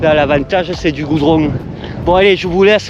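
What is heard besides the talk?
No everyday noise stands out behind the speech.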